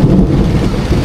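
Steady rain falls outdoors at a birthday gathering, a dense continuous wash of low rumbling patter, loud and close, with no voices over it.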